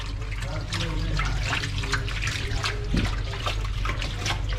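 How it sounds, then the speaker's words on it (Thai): Water runs steadily while photo film is rinsed off a brass name plate, a continuous splashing rush with small trickles and bursts throughout. "แล้วก็ล้างไปเรื่อยครับเพื่อที่จะให เนื้อพิมพ์หลุดออกมาให้หมด"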